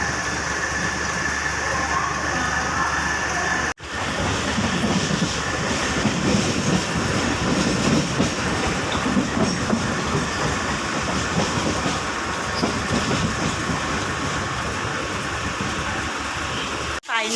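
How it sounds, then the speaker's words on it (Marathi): A train rumbles steadily along the rails with rhythmic clattering, loud and close, as if heard from inside a carriage; a sharp jolt briefly interrupts it. "आणि मग ट्रेन येली आणि खूप दिवसांनी बसले आपल्या मुंबई लोकलमध्ये"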